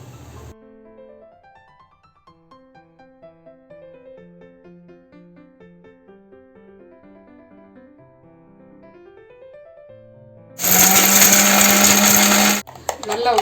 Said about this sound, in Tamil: இந்த டைமில் நம்ம வேர்க்கடலை தேங்காய் மிளகு எடுத்து வச்சுருக்கோம் அதை நம்ம பேஸ்ட் மாதிரி அரைச்சிக்கலாம்